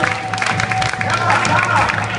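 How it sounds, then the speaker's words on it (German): An audience claps and cheers in a sports hall, a burst of applause and crowd noise mixed with voices talking over it. "vielleicht eine kleine Unterstützung, einen kleinen Applaus für den Hermann."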